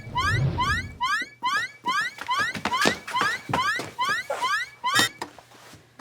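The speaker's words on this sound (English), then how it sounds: "You set off the alarm." An electronic alarm sounding from a hub, rapid repeated rising chirps in loud bursts with short gaps, continuing steadily for several seconds.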